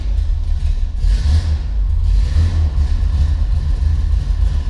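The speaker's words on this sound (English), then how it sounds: "Okay, a little cold start here." A 1974 Corvette L82 V8 fires from a cold start and settles into a fast idle, a loud, steady, deep rumble with slight lumpy pulsing and no talk.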